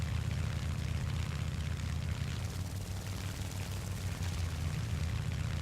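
Propeller aircraft engine in the War Thunder combat flight game, a steady low droning hum with a constant throb, fairly quiet and unbroken throughout.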